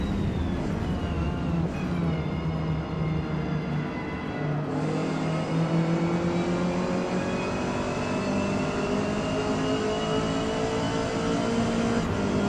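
A race car engine in the video game Forza Motorsport drones and climbs through gears, its pitch repeatedly rising then dropping at shifts, loud and continuous throughout a multiplayer race with other cars faintly around.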